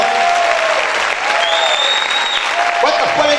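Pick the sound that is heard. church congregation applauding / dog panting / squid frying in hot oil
church congregation applauding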